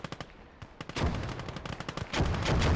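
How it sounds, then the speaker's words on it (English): Mortar and gunfire crackle in a war video game battle, sharp spaced shots giving way to dense, loud rapid bursts of automatic fire that continue to the end. "Mortars are definitely softening up the points"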